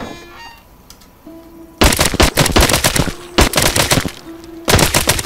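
A submachine gun fires in Arizona Sunshine, a zombie VR shooter, in loud, close bursts of rapid shots separated by short pauses with faint ambient tones between.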